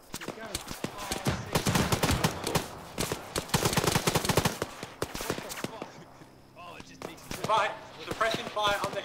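Military video game firefight: rapid bursts of close automatic gunfire in dense clusters for the first several seconds, then sparser shots, with people talking over and between the bursts.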